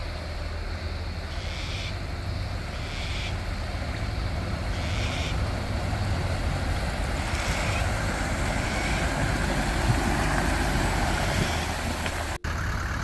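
An off-road four-wheel drive fords a deep river crossing with water up to the door handles, giving a steady broad wash of churning water and engine rumble, continuous and fairly loud.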